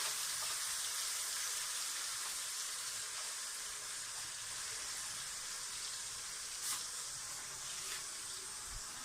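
Minced meat cooking in a pan of sizzling masala, a steady loud hiss of frying that holds evenly throughout, broken by a couple of faint stirring clicks.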